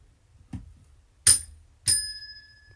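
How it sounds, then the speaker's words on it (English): A small bell rung twice, each strike a bright metallic ding, the second one ringing out with a long sustained tone, heard close and alone after a soft thump. "Wow, you got the bell out."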